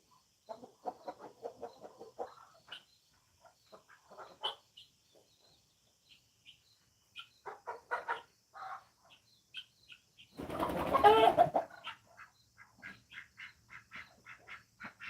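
A chicken being handled on a farm flaps its wings in a loud burst midway, with scattered clucks and short squawks before and after, fairly close.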